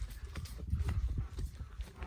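A ridden horse walks with a steady rhythm of soft, muffled hoof clip-clops, close by and fairly quiet.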